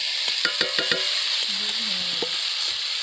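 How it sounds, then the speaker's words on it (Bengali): Small fried chuno fish go into a sizzling spice masala in a pan: a steady, bright hiss throughout, punctuated by a quick run of clattering knocks near the start and a few scattered taps later. "আমি এর মধ্যে এবার মাছ ভাজা মাছগুলো দিয়ে দিচ্ছি"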